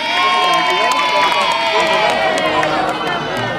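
Crowd noise with cheering and children shouting at an Independence Day competition prize-giving, loud and continuous, with voices mixed in throughout.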